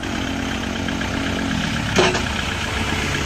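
A used 2011 Kubota L4708 tractor with a 47-horsepower four-cylinder engine idles with a steady, loud, even drone; a single sharp click cuts in briefly midway.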